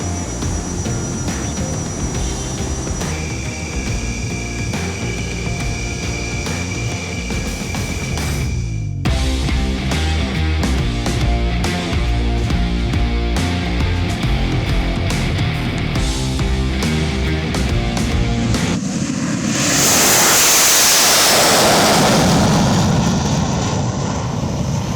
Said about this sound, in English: The jets taxi out of their shelters and head to the runway.